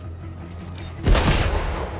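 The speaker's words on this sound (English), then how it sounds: "Where the hell are the shots coming from?" Sniper gunshots in the video game 007, a sharp loud crack followed by a rumbling burst of gunfire and echoing debris over steady low background noise.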